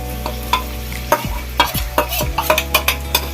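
Green chilli and ginger-garlic paste fry in oil for chicken do pyaza, with a steady sizzle under repeated sharp scrapes and knocks of a spoon stirring the pan, close and fairly loud.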